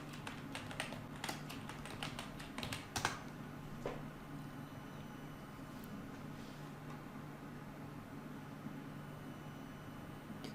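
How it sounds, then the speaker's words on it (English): Computer keyboard typing a prompt, a quick burst of faint key clicks in the first few seconds, then only low background hum. "So first we are typing a prompt,"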